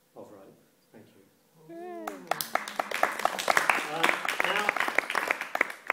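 Audience applause at a socialist magician's stage magic show, following a rope trick, breaks out after a brief spoken lead-in and continues as a steady, dense patter of clapping with voices mixed in.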